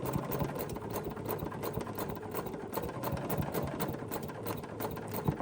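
A sewing machine stitching embroidery around a flower shape runs quietly and steadily, its rapid needle chatter forming a close, even mechanical patter with no talking.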